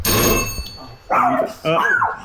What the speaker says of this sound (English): That was our doorbell that ring.